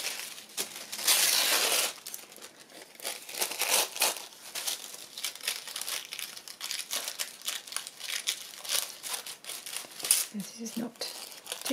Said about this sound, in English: Tissue paper seems to only want to tear in one direction,